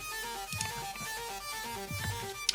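A dry EDM synth arpeggio from a Silent preset in FL Studio with its effects removed: a steady stream of thin, sustained tonal notes at moderate level, close and unadorned, with a few soft low thumps and no voices.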